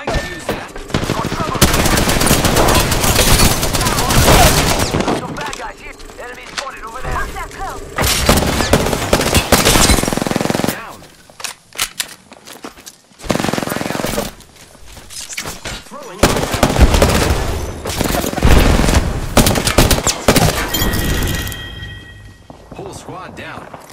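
Gunfire in Apex Legends: bursts of automatic fire and heavy shots come in loud clusters separated by brief pauses, with voice lines spoken between the bursts.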